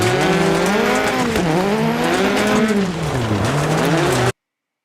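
Peugeot 205 T16 Group B rally car in Dirt Rally 2.0, engine loud and close as it sweeps up and down through revs into a hairpin, with tyre scrub, cutting off abruptly near the end.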